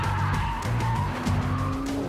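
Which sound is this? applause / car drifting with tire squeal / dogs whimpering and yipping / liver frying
car drifting with tire squeal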